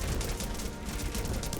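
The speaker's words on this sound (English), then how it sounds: "I think the explosion might have hurt my own units." Explosion in the army-building autobattler video game Knightica, a dense, crackling burst of blasts resembling rapid gunfire that fills the whole moment at steady loudness.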